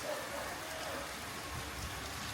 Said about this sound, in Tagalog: inabot ako ng ulan